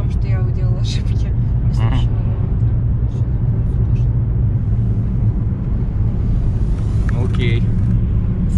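Car interior on a city road in traffic, with a steady low road rumble and engine drone throughout and voices talking over it.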